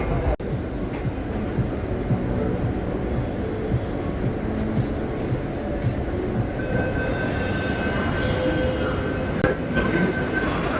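A metro train running, a loud continuous rumble and rush of wheels on track with a faint high squeal near the end, heard from inside the carriage, with no talk.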